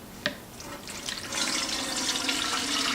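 Homemade kefir is poured through a strainer into an 8-quart pot, a steady close liquid splashing and trickling that swells after a small clink and continues without talk.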